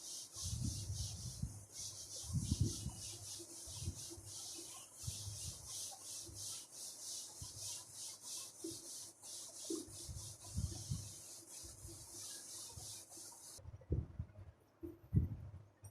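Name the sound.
rubbing out writing on a board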